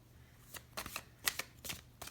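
Oracle cards being shuffled and drawn, a quick series of soft crisp riffling and slapping bursts close by, with no talk.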